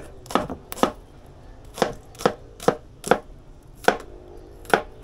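A sharp knife chops pepper on a board outdoors during Jamaican cooking of curry chicken back and roast breadfruit, with about nine crisp, evenly spaced, close knocks and no talking.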